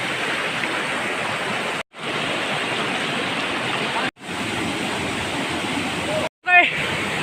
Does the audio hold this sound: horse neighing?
no